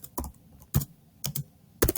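Typing on a computer keyboard, entering a color name for an HTML/CSS project; four short, close bursts of clicking keystrokes separated by quiet pauses, with no talk.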